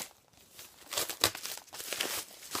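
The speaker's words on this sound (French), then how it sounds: "Donc, je vais déballer le coffret pour vous la présenter." Plastic wrapping is torn off a DVD box set of The Affair season 4 in a short burst of close, faint crinkling and crumpling with a few sharper crackles, and no speech.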